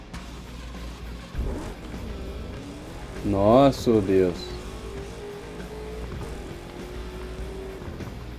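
Video game car engine from an Xbox One S title, revving up briefly in a short loud burst amid game background noise, with someone talking over it.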